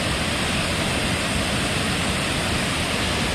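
Eas Fors waterfall on the Isle of Mull pours with a constant, loud, close roar of falling water, a dense unbroken hiss that never changes and carries no voices.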